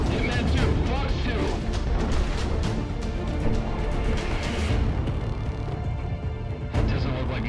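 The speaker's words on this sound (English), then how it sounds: "Commencing rocket fire." Rockets fire during an aerial dogfight in the video game Project Wingman, a dense stream of rapid thumps and blasts over a continuous roaring jet drone, with voices speaking through it.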